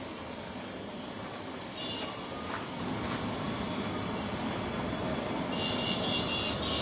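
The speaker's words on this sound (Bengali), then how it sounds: "এই যে এখন হেলিকপ্টার নামতেছে" A helicopter comes in to land at a football stadium in Mymensingh, its engine a continuous loud roar that swells slightly as it nears.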